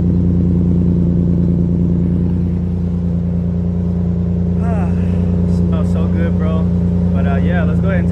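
A Nissan 370Z engine idles steadily and loudly with a deep, even hum after maintenance, while someone talks over it.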